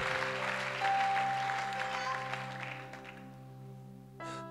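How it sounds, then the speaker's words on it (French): A church congregation applauds and acclaims the Lord at a prayer service. The clapping is a broad crowd wash, moderately loud and fading gradually over a few seconds, with steady sustained organ or keyboard tones underneath and a brief rise near the end. "Acclamons le Seigneur."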